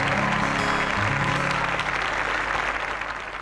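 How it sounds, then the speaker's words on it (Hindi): Loud, dense congregational applause at a church service, continuous clapping from a crowd filling the whole span with a low musical hum underneath, fading slightly at the end. "जोर से तालियां बजाओ प्रभु यीशु मसीह के लिए"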